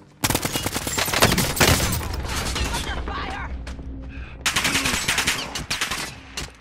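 Loud video game gunfire: dense bursts of rapid automatic shots rattle continuously, briefly ease to a lower rumble, then resume in another sustained, close burst.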